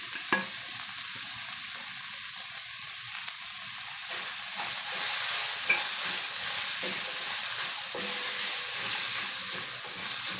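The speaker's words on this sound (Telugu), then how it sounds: "ఇవన్నీ కొద్దిసేపు ఈ నూనెలో ఫ్రై అయితే బాగుంటుంది కొంచెం సేపు ఇట్లనే ఫ్రై చేద్దాం" Potato pieces and corn kernels fry steadily in hot oil, giving a continuous close sizzle with occasional stirring scrapes and small pops, no voices.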